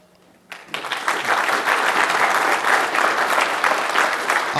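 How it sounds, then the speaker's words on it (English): Audience applause at a software talk swells after a brief quiet start and holds as steady, dense clapping filling the hall, with no voices over it. "I was going to come up with a contrived user story to get everybody to applaud, but they did it already."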